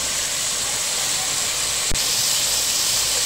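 Onions, green chillies and tomatoes fry in a pan for a Telugu onion curry, a loud continuous sizzling hiss with one brief knock partway through.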